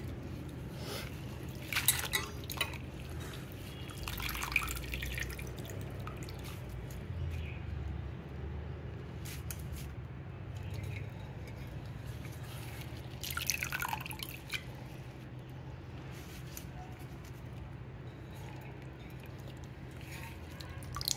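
Water drips from freshly washed curry leaves sitting in a strainer: quiet, irregular little drops and trickles, close by, scattered across a soft, steady background.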